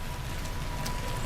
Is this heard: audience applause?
no